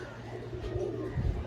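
Pigeons at a sale cooing in a low, murmuring rumble, a faint continuous burble over a brief stretch with no clear talk.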